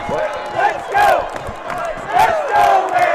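The home crowd at a Class D girls basketball regional final roars and cheers in loud, surging waves of shouts and whoops filling a gym, rising and falling with no break.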